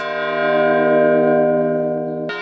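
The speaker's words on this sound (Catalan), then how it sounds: "Avui la colla de campaners toca a difunts per a retre-li homenatge" Church bells in Albaida toll for the dead, a bell at half swing with two others ringing a peal, sounding as long sustained ringing tones that linger and fade before a fresh strike near the end, with no voices.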